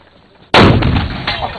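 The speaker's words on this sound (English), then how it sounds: "A little sympathetic detonation there." A sympathetic detonation explosion goes off with a sudden, loud blast after near silence, followed by a sustained rumbling roar that stays strong for the rest of the moment, with a second surge near the end.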